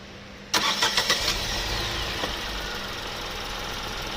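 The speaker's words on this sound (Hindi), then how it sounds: "अभी इसका इंजन साउंड बिल्कुल नॉर्मल है, साइलेंट है गाड़ी।" A Tata Tigor engine starts up after its auto tensioner has been replaced, giving a brief cranking burst before settling into a steady, fairly loud idle with no talk.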